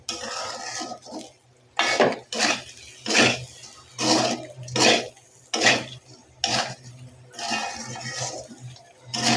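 Rice frying and being stirred in a pot, heard as a series of rhythmic scraping strokes about once a second against a low hiss, close and loud with no talking.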